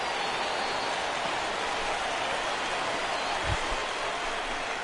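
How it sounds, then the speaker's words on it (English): Steady rain falling in a PS4 baseball video game, a dense even hiss throughout with a brief low thump near the end. "the rain continues to fall here"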